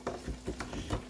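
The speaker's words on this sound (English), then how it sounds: "I got the fillets frying up." Crappie fish fillets sizzling and crackling in oil in a pan, with soft bursts of frying noise coming up close, alone without any voices.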